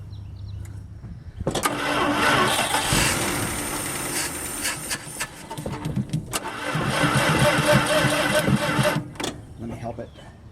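A forgotten Dodge D300 farm truck with a 360 Mopar V8, fed extra gas through the carburetor, cranks and catches, running loudly and unevenly for several seconds, stumbling briefly before picking up again and then dying out, with a voice speaking near the end.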